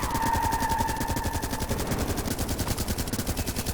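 Turret gunfire in the sci-fi strategy game The Red Solstice, a loud, rapid stream of evenly spaced shots running the whole time with no pause.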